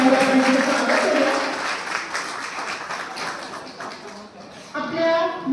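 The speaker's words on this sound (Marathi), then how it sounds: "जोरदार टाळ्या वाजवून स्वागत करूया" Applause greets guests at a regional Satyashodhak conference in the Konkan against superstition; a fairly loud crowd clapping runs for a few seconds, then a voice speaks over thinning claps before clapping swells again.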